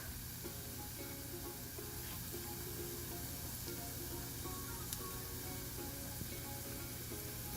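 Minced garlic and onions stir-fry for aloo keema with a soft, even sizzle and faint intermittent stirring taps, heard alone at low volume throughout.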